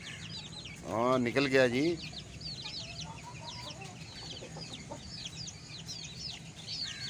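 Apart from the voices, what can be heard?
Aseel rooster clucking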